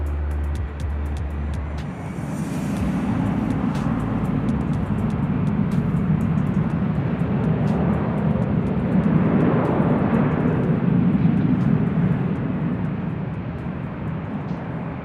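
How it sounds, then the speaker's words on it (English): Philippine Airlines Boeing 777 arriving at LAX, a broad steady jet roar that swells gradually and holds at a moderate distance for the whole stretch, with no talk over it. "we do have a Philippine 777 who is going to be arriving here on the north side in a matter of moments"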